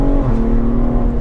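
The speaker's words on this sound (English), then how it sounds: "If you listen to the shift, it's so much quicker, more crisp" A car with XHP transmission software makes a quick, crisp gearshift, the engine note dropping sharply in pitch mid-pull, loud and close with no talk.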